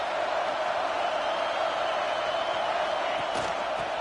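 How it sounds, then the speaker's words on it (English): Steady roar of a large stadium crowd at a Georgia Tech vs Penn State football game, a continuous wash of noise with a brief burst of louder cheering near the end. "This crowd bringing the energy and noise early."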